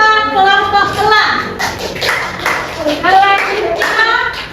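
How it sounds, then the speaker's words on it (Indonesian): A classroom of children clapping for a group of classmates, rhythmic rounds of claps mixed with shuffling and a teacher's voice speaking over them. "Beri tepuk tangan kelompok kelas."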